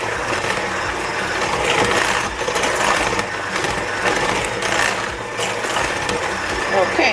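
A mixer beats Jamaican rum cake batter with a steady, loud motor whir that runs continuously, with no speech over it.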